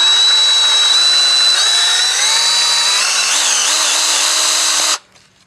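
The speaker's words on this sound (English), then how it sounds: "Not sure entirely how far it needs to be drilled in, but we'll give it a starting hole." A handheld power drill whines steadily as it bores a starting hole into a car body, its pitch shifting slightly under load for about five seconds before cutting off abruptly.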